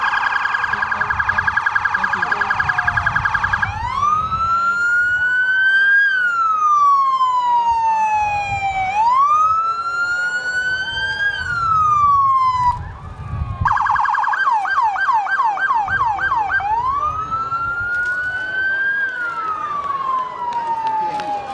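A fire department deputy chief vehicle sounds its siren at a Halloween parade, loud and close, with repeated rising and falling wails broken by rapid yelping bursts and a short gap midway.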